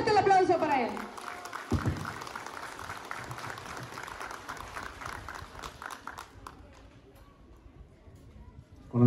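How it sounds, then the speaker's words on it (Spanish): Crowd clapping for a municipal president at an outdoor civic ceremony and parade for a village anniversary. The applause comes in a loud burst at first, then thins into scattered claps that fade, with voices talking over it. "Fuerte el aplauso para él."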